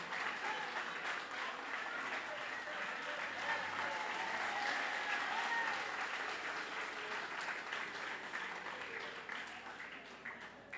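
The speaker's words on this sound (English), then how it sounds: "Please let them stand and give them a round, warm of applause for their support over the last 29 years of our independence." Convention audience at a political party's annual gathering gives a long, sustained round of applause, an even wash of many hands clapping that holds for several seconds with faint voices beneath.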